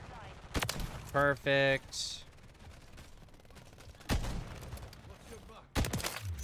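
An automated sentry gun in Call of Duty MW3 fires bursts of gunfire, a few sharp loud volleys spread across the moment, with a voice briefly speaking between them.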